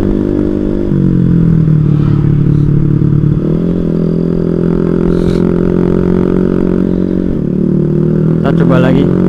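A motorcycle engine with a carburetor fault runs at high RPM, its loud, close drone wavering and stuttering unevenly throughout.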